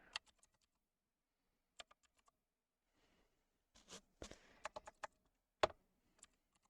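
Scattered keystrokes on a computer keyboard, faint and close, come in short irregular clusters separated by quiet pauses, with a denser flurry of taps near the end.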